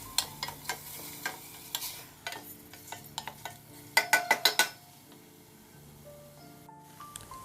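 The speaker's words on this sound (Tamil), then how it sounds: "இஞ்சி பூண்டு விழுது, இதோட பச்சை வாசம் போகிற அளவுக்கு நல்லா வதக்குங்க." Ginger garlic paste is sautéed in a pan for Dindigul Thalappakatti-style chicken biryani. A spoon scrapes and clacks in an irregular rhythm, with a quick burst of strokes near the end, over a faint sizzle and soft tonal background sound.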